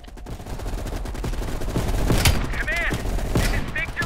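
Gunfire in Call of Duty Black Ops Cold War, a dense rattle of shots over ongoing battle noise with some sharp whistling effects, loud and continuous.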